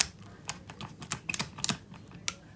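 Xiaomi Mijia ratchet screwdriver clicking as the ratchet turns, a series of light, crisp ticks in irregular bursts, close and fairly quiet with no other sound.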